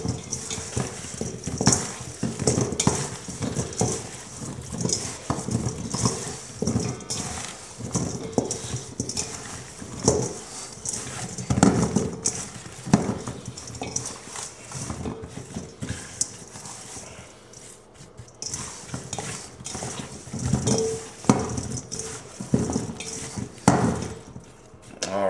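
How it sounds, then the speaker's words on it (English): Garlic parmesan potato wedges tossed with seasoning to coat them, giving a close, continuous, irregular clatter and rattle that runs throughout with no talking. "then we're going to give this a good toss"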